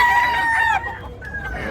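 Roosters crow and hens cluck in a small, crowded chicken market in Tabunok, Cebu, with a long crow up close and more clucking after it, busy and loud.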